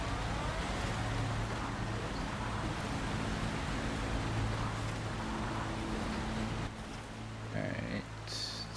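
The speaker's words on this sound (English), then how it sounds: "That water's really loud." Loud, steady rush of flowing water in the SnowRunner video game, a dense continuous wash with low engine-like hum beneath, in a snowy Maine lowland region.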